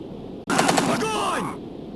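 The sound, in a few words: gunfire in video game Call of Duty Modern Warfare 3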